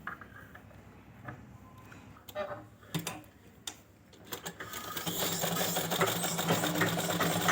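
Sewing machine stitching a baby gown: a few scattered clicks and handling taps at first, then a steady close run of motor and needle chatter over the last few seconds.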